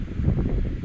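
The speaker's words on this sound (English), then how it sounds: "Wind, she is blowing." A brief, low rush of wind buffets the microphone, steady and muffled, with no voices.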